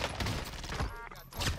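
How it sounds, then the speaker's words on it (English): Dense, continuous volleys of gunfire in Call of Duty on Rebirth Island, overlapping shots crackling at mid distance with a couple of sharper cracks near the start and the end. "He's shooting."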